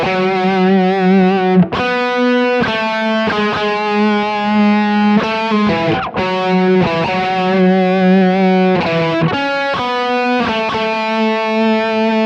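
A distorted electric guitar plays a riff, sustained chords with brief breaks between phrases, loud and close, no voices.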